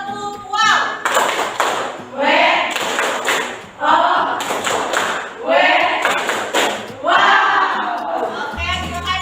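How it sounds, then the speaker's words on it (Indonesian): A classroom of students clapping hands together in loud rhythmic bursts, several rounds of patterned claps with shouts and cheering voices mixed in. "Tepuk tangan"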